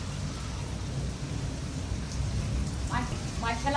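Rain and wind blow into a village house during a storm, a steady close hiss of rain with gusty rushing, and a few faint distant rumbles of thunder near the end; no one speaks.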